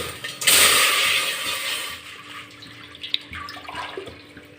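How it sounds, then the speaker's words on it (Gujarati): Water pours into a cooking pot for sabudana papad, starting with a sudden rushing gush that gradually thins to a lighter trickle with a few small clinks near the end. "વાસણમાં આપણે પાણી એડ કરીશું"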